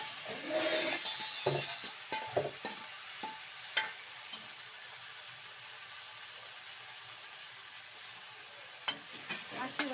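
Sprouted gram is tipped into a hot pan for usli and stirred, with clattering and scraping at first, then a soft, steady sizzle broken by occasional spatula knocks.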